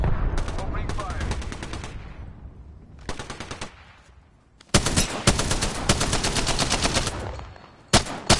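Automatic weapon fire in Apex Legends, loud and close, coming in sustained rapid bursts with short gaps between them and a final short burst at the end, alongside game sounds.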